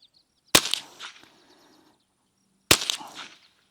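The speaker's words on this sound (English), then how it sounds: "These are definitely the fastest round we're shooting today." Two sharp gunshots ring out from a Bear Creek BC-201 fitted with a new barrel, roughly two seconds apart, each a loud, close crack followed by a short echoing tail in otherwise quiet outdoor surroundings.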